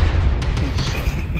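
Explosion in a vehicle combat video game as a target is destroyed, a loud deep boom with a rumbling low tail and a few crackling bursts, heard alone without talk.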